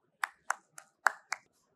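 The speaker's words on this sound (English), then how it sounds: "please welcome him with a huge round of applause" Audience applause for a speaker taking the stage at the Battery Show India conference, heard as five sparse, distinct hand claps spaced evenly and fairly close, with no voices.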